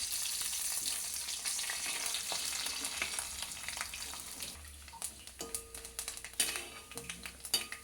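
Coconut pieces and curry leaves fry in a pan with a soft continuous sizzle, broken by scrapes and clinks of a spoon stirring against the metal, close and fairly quiet.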